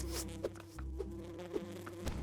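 Buzzing bees from a beehive in the video game Lucky Tower Ultimate, a steady insect drone with soft clicks and small bumps laid over it, running unbroken through the short stretch.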